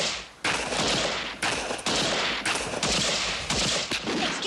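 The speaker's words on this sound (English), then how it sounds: "There are wicked people out there shooting real bullets at us." Gunfire in a 1979 Hammer film of The Lady Vanishes comes as a loud, sustained fusillade of overlapping shots in repeated bursts with short gaps between, filling the scene with a harsh, crackling barrage and no voices.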